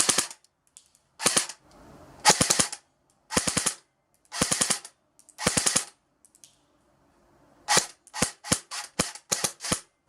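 Budget AK and M4 airsoft rifles firing 0.25 g BBs crack out sharp, close shots, first as spaced single shots and short pairs, then a quicker run of rapid shots near the end, with silence between.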